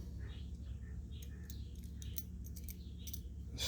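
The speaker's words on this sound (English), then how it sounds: "it looks like these are a pretty good cutting shear." Japan-made cutting shears with a slightly tired spring snipping open and shut, a run of short, sharp metallic clicks over a steady low background hum, close by.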